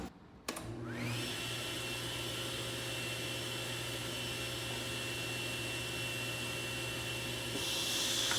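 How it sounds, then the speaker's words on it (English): A workshop vacuum used with a table saw starts with a sharp click and spins up within a second, then holds a loud, steady whining roar with a constant hum and hiss to the end. "I'm going to turn on the vacuum, which is going to be kind of loud"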